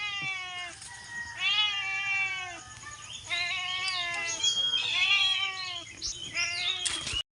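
A pet cat meows repeatedly, about five drawn-out, insistent cries in quick succession, loud and close with brief pauses between them and a short sharp noise at the end.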